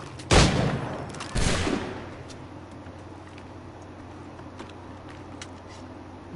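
Musket volley in the Assassin's Creed 3 video game, two loud, close crackling bursts of massed shots about a second apart, each decaying into a low ambient rumble.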